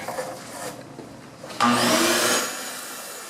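A vacuum sucks debris through 5/8 copper tubing in a Chevy Blazer. A quiet scraping gives way to a sudden loud whooshing suction roar for about a second before it drops off.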